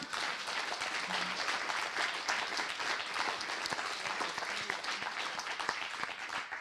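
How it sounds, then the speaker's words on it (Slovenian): Steady applause from an audience at a Slovenian film directors' awards evening, with many hands clapping in a continuous, fairly even roar at moderate level and no talking over it. "zasluži mogoče en aplavz"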